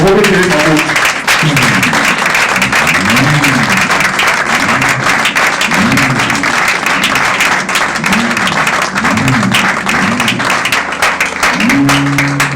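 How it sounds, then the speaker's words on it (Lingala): Mourners at a memorial gathering for Papa Thomas Matiafu stand and applaud in his memory, a dense, steady wash of clapping that continues loud and unbroken throughout, with voices murmuring beneath it. "Nous allons acclamer pour sa mémoire."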